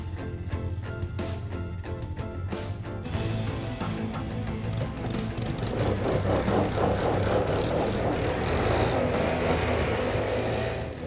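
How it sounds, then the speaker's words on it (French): A quad bike engine revs and strains as its tires spin on a test ramp sprayed with soapy water, a steady loud mechanical drone that swells and grows busier partway through, with no talk. "Les pneus du quad n'ont aucune prise sur la surface glissante."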